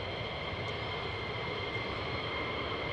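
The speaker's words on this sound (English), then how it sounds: "Another F-15 coming out." An F-15 fighter jet taxiing at RAF Lakenheath, a steady, loud turbine roar and whine that holds constant throughout with no talk.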